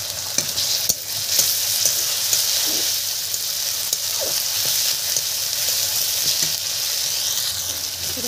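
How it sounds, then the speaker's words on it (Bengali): Cumin seeds and chopped onion fry in a pan with a steady, loud sizzle throughout, broken by scattered scrapes and knocks of a utensil stirring them. "এবার ফোড়নের জিরে আর যে পেঁয়াজ কুচি দিয়ে দিচ্ছি"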